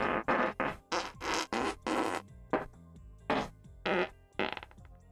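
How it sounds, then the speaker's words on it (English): A rapid string of cartoonish fart sound effects triggered by a button, about a dozen loud bursts of varying length and pitch, close and alone with short gaps between them. "just having one button that plays one random fart out of 54"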